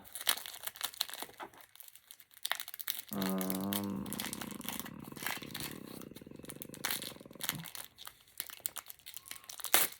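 A plastic packet from a diamond art kit crinkles and crackles up close as it is handled and opened, in sharp irregular bursts, with a steady buzzing hum in the middle stretch.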